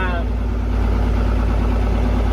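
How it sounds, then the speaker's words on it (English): A heavy tractor engine rumbles loudly and steadily, its low throb deepening and straining as it takes on the load of a pump starting. "hear that labouring, it's starting to pump now"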